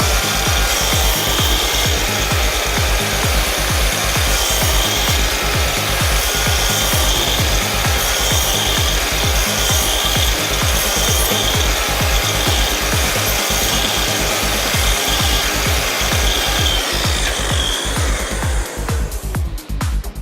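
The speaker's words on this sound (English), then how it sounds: "we can cut housings across the width of timber really accurately and of course cleanly as well" A Festool KS 60 sliding mitre saw cuts housings across timber, a loud, continuous grinding rasp of blade through wood that holds steady and then tails off near the end, with no voices.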